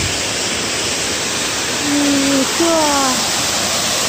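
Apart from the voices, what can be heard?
waterfall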